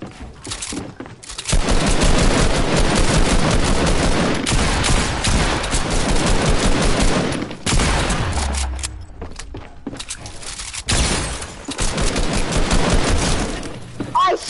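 Rapid bursts of gunfire from a Fortnite weapon, loud and dense, with sustained volleys broken by short pauses and a few heavier thuds.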